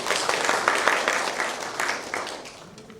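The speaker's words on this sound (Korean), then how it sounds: "발표해 주신 그 서용현 교수님께 다시 한번 큰 박수 부탁드리겠습니다" Audience at an industrial safety and health seminar clapping for a professor after his talk, a dense burst of applause from many hands that fades over a few seconds, moderately near in an indoor hall.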